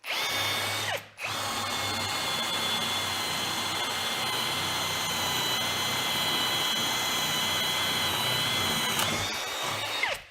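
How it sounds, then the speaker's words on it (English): A cordless drill drives a 25 mm wing bit through timber, a loud steady whine after a brief start and stop, running continuously for about nine seconds before cutting off. "let's go with the 25 mil or inch wing bit first"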